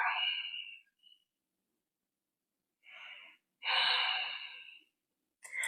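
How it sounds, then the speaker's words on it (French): Deep yoga breaths during a Hatha yoga session: a long airy inhale, a pause, then short and long exhales, close and fairly loud, separated by silence. "J'inspire et j'expire."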